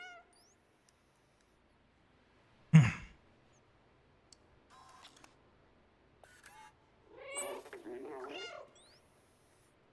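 A cat in the Stray video game lets out a few drawn-out meows near the end, after a single sharp thump and some faint soft game sounds in an otherwise quiet scene.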